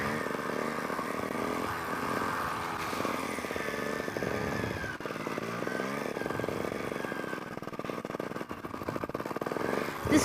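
A dirt bike rides a tight wooded trail loop at Hurricane Hollow, its engine revving and dropping continuously with clattering over rough ground, close and steady throughout.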